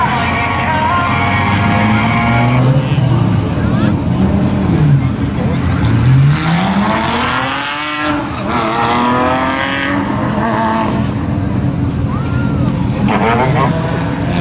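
A BMW race car runs a slalom course at the Anneau du Rhin circuit, its engine rising and falling through gear changes at close range beneath continuous French commentary.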